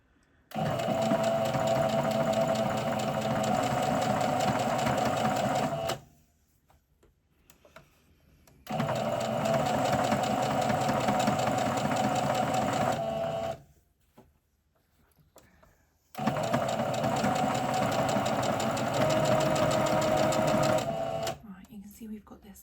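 Sewing machine stitching t-shirt fabric in three long continuous runs of fast, even motor hum and needle chatter, separated by short pauses, with a person talking.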